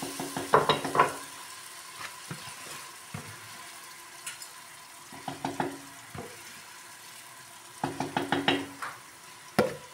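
Tomato paste and peppers hit a pan of browned onions and sizzle, with bursts of clattering stirring and spoon knocks against the pan at intervals over a steady frying hiss.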